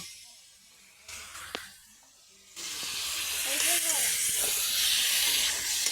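Broiler chicken frying in a pan while being stirred, a quiet stretch with light clinks giving way to a loud, steady steamy sizzle and hiss, with a voice speaking briefly over it.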